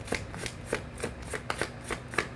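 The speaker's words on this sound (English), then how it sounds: "I ain't doing shit but shuffling cards" Playing cards are shuffled up close in a steady run of quick riffling bursts, roughly evenly spaced, with no talking over them.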